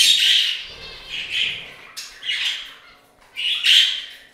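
A pet bird in a room full of other birds, including budgerigars and finches, lets out four loud, harsh squawks close by, separated by short pauses, with no speech.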